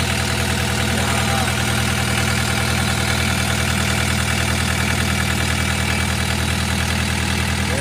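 A Deutz engine with an oil cooler runs steadily beside its hydraulic pump, a loud, close, constant idling drone with a fine knocking pulse throughout and no talking.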